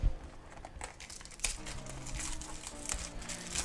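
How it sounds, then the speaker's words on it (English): A knife slicing into the shrink wrap on the packaging of a 9500mAh 4S LiPo battery, heard as close, soft crinkling and tearing plastic with a few sharper crackles, with no talk. "Cut into the shrink wrap"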